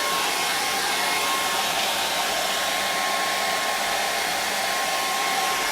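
Close, constant hairdryer noise, a broad airy roar with a faint whine, holding steady throughout with no voices.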